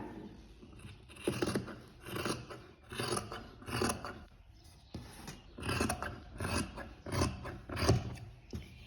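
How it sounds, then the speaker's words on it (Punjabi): Scissors snip through salwar fabric in a run of rhythmic crunching cuts, each stroke a close, dry rasp with short pauses between, no voices. "ਕੱਪੜਾ ਇਹਨੂੰ ਆਪਾਂ ਇਸ ਤਰ੍ਹਾਂ ਕੱਟ ਕਰ ਲੈਣਾਗਾ"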